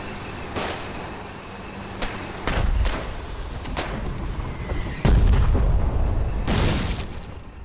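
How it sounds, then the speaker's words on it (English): Mortar fire during a battle in the video game Foxhole: repeated heavy booms and sharp blasts over a constant rumble of combat, with bigger thuds near the middle and toward the end, and no voices. "Grab some mortars."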